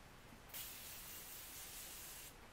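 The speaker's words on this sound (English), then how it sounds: "it feels really refreshing when you spray it on, so I'm gonna put this on" Makeup setting spray misted onto a face in one sustained burst of about two seconds, a soft close hiss that starts abruptly and cuts off cleanly.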